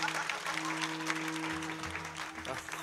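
A crowd claps steadily at a Marathi kirtan, dense even applause running throughout, with a sustained sound-system hum and tones underneath.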